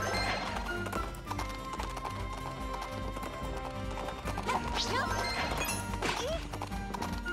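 Horse hooves clip-clop in a steady galloping rhythm during a riding section of the Princess Peach Showtime video game, with a neigh and game music underneath.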